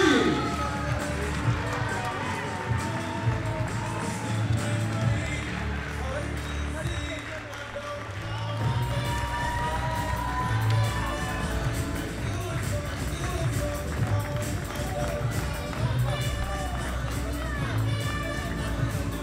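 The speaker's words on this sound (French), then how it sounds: "Pour les applaudissements pour tous les deux" Audience at a Muay Thai championship gala clapping and cheering after a pro title bout, a sustained wash of applause under an announcer's amplified voice, moderately loud throughout.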